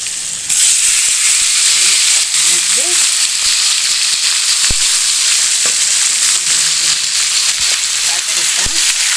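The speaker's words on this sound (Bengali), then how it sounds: "এখন এখান থেকে নিয়ে আমি এই কড়াইয়ের মধ্যে ঢেলে দেবো" Marinated chicken frying in a hot wok (kadai) for a red chicken curry makes a loud, continuous close sizzle with faint stirring scrapes, with a voice now and then underneath.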